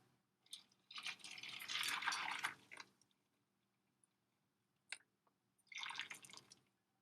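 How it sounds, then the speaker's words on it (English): Tinted soaking water poured into a bowl of sea moss, two splashy pouring bursts separated by a pause with a few isolated drips between, close and quiet with no speech. "I'm gonna just take that and I'm gonna pour it into the bowl with the moss"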